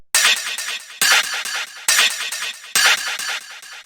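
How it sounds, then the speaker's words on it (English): Hard rave techno delay percussion effect: four sharp, bright, crashing hits spaced about a second apart, each trailing off in a dense, echoing wash before the next loud burst. "And yeah, then we just have this delay percussion,"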